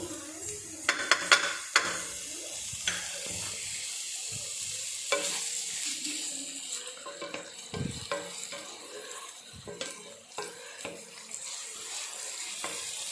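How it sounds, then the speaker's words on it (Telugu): Coarsely crushed ginger and garlic frying in a pan of oil for Nellore-style chicken fry, a steady close sizzle broken by scraping stirs and brief clatters, with some watery splashing, and no voices. "ఇప్పుడు దీంట్లో మనం కచ్చాపచ్చగా దంచుకున్న అల్లం వెల్లుల్లి వేసేద్దాము"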